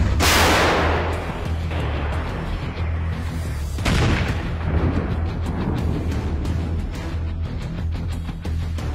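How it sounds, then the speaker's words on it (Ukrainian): A single powerful blast from a Polish AHS Krab self-propelled howitzer opens with a heavy boom, followed by rumbling echo and a second thump amid steady background noise. "Постріл!"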